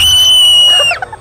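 Loud, high-pitched sustained scream from the horror video game Devour, holding steady before breaking off abruptly into a short fading tail.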